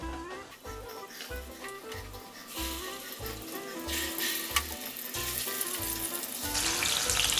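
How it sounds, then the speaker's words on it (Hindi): Beef nargisi koftas frying in hot oil over a low flame, a steady sizzle building up gradually beneath loud rhythmic background music. "ये हमने तेल इसमें गरम कर लिया है और ये स्लो हल्का आँच करके अब ये इसको हम एक एक कोफ्ता इसमें हम आहिस्ता आहिस्ता रख देंगे।"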